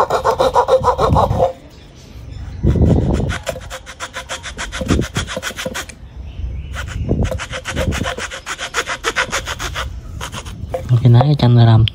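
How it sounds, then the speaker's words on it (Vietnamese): A hand saw rasps back and forth through hard lemon tree wood in repeated strokes, bursts of cutting with brief pauses between them, close and loud. "mình sẽ tiếp tục dùng cưa nha cả nhà"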